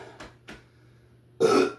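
A single loud, close burp from a person, preceded by a couple of soft faint sounds.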